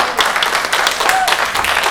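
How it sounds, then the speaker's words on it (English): Brief burst of applause for recently graduated youth panelists at a discussion event, with a voice speaking over the clapping. "can we get a round of applause for them"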